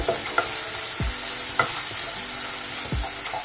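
Chopped tomatoes cook in a pan with a continuous soft sizzle, while a spoon scrapes and stirs through them in a few separate strokes.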